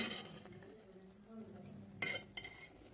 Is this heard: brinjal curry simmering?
yes